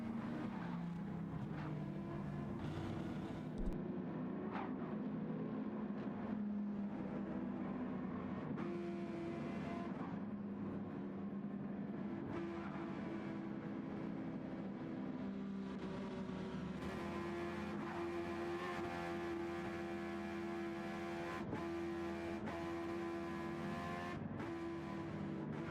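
Race cars in Gran Turismo 7 at Trial Mountain roar off the start line, several engines droning and rising in pitch together, with a steady, unbroken engine note held loud throughout.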